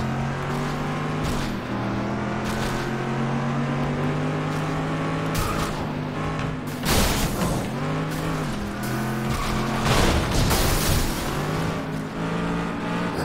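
Cars racing in FlatOut 2: a loud, buzzing engine drone that rises and falls with gear shifts, with tire squeals, rattling impacts and crash noises around the middle and later on, no talk.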